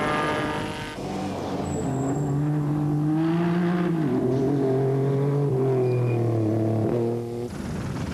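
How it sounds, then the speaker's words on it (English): Mitsubishi V6 petrol rally cars in the Paris-Dakar desert rally, driving across sand with a loud, sustained engine drone whose pitch rises and falls as they rev and pass nearby. "The V6 petrol engines of the Mitsubishis powering them across the sand"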